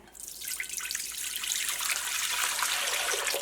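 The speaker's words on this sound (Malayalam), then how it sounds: "കുക്കറിലേക്ക് നമുക്ക് വെള്ളം ഒഴിക്കുക." Water pours into a metal pressure cooker, a splashing gush that swells and deepens as the vessel fills.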